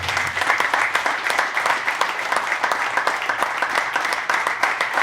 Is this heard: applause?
yes